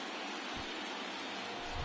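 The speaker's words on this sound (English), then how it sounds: "It feels like we might be headed towards a rain delay if the weather doesn't ease up, Chris" Rain falls steadily in the MLB The Show 23 baseball video game, a dense continuous hiss of downpour with no break, fairly loud and alone.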